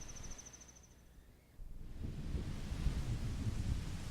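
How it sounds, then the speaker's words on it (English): A thunderstorm with rain plays in a Zelda: Majora's Mask cutscene: a faint hush at first, then a low rumble of thunder swells under a steady wash of rain. "It was a dark and stormy night."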